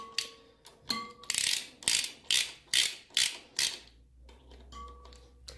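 Ratchet wrench tightening the front axle bolts on a Suzuki DR650 motorcycle, a series of about eight short clicking ratchet bursts in a quiet workshop, close and distinct.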